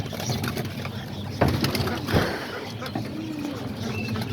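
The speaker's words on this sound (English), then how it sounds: "So yeah, all these pigeons right here." Pigeons, among them dark blue checkered birds, coo softly in a backyard loft with a few brief rustles and thumps. The low calls come and go under faint outdoor background noise.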